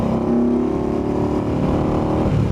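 An Indian Scout Bobber motorcycle engine with an S&S exhaust runs close by, giving a deep, even rumble that holds steady throughout.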